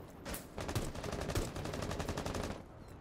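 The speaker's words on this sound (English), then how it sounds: "I'm whiffing all my shots." Rapid gunfire from Rainbow Six Siege, a fast run of sharp shots fired in quick succession for about two seconds, then stopping.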